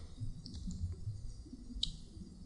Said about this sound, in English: And is that Adam typing?